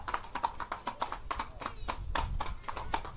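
Racehorses at Moulins racecourse walk past with crisp, evenly spaced hoof clip-clops, close and distinct, in a steady rhythm of repeated sharp knocks.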